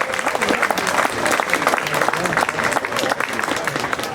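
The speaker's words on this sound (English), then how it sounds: "give a big round of applause for our wonderful performers" A crowd claps steadily and densely throughout, a full sustained round of applause with no break.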